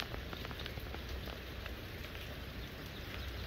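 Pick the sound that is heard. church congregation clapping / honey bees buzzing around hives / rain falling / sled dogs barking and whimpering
rain falling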